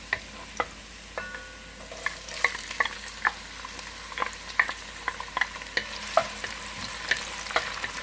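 Onion for chicken adobo frying in a pan, a continuous sizzle broken by regular sharp scrapes and taps of a utensil stirring against the metal, growing busier midway; no one speaks.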